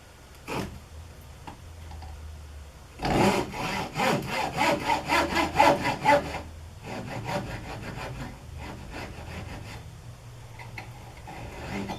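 A hand saw cuts through a wooden piece during a window repair, a burst of brisk, rhythmic rasping strokes in the middle after quieter scraping and tapping, close and fairly loud with no talk.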